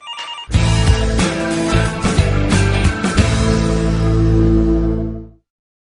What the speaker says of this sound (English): Linda, the phone is ringing.